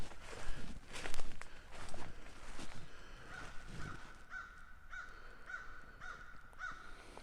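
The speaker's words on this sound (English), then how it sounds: "You hear the birds are alive in this area." Crows cawing several times against a background of footsteps crunching along a trail, then a regular series of short calls repeating toward the end.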